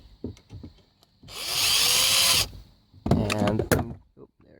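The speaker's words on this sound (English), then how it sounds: "I've got a drill master with a long extension on it" A Drill Master power drill with a long extension loosening a bolt on a Mazda, a loud whirring burst of about a second, then shorter rattling bursts, with someone talking in between.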